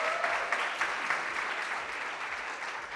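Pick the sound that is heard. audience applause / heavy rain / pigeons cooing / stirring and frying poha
audience applause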